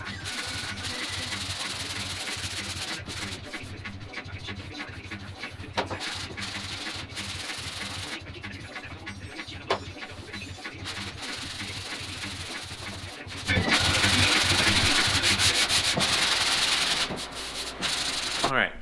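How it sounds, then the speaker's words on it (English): Body filler on a 1971 Pontiac GTO is sanded by hand in continuous rasping back-and-forth strokes, close up, with a louder, harsher stretch near the end. "So we'll just keep sanding."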